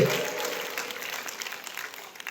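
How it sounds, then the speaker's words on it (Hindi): An audience at a motivational talk breaks into loud applause for the women, which starts strong and gradually thins out. "महिला लोग के लिए जबरदस्त ताली होना चाहिए"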